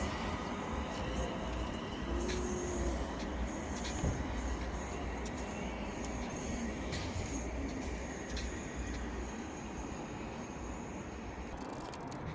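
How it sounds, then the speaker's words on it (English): A British Rail Class 321 electric multiple unit passes through Tipton station with a steady rumble and rail noise lasting throughout, and a brief wheel squeal or tone partway through. "Look at this 321 coming past."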